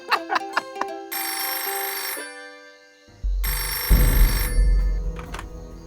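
A telephone rings in a dramatic indoor scene, opening with a few sharp metallic pings, then two long loud electronic ring bursts separated by a pause, with a low rumble joining the second ring.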